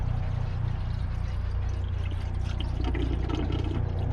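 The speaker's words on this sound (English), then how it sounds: "all we need now is just fill up a coolant" Coolant pours steadily into the radiator of a Ford Capri, a loud, continuous gushing splash of liquid that lasts throughout without pause.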